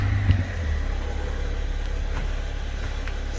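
A BMW car engine idles steadily after a throttle controller install, a low even rumble close by, with a brief louder burst at the start as it catches and then a smooth idle with no talking.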